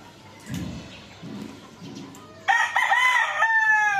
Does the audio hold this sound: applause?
no